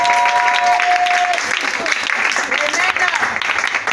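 A church congregation applauds and cheers loudly in praise at a French-language worship service, a dense sustained wash of clapping and voices with shouted acclamation mixed in.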